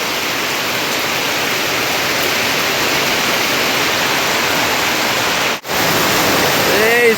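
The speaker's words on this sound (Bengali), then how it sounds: "গাইস দেখো কি জোরে বৃষ্টি এসছে" Heavy rain pours in a dense, steady hiss that fills the scene evenly, with a brief dropout near the end before it resumes.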